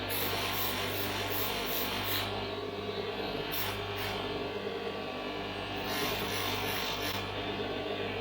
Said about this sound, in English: we've got to remove the marks that we've just put in with this abrasive belt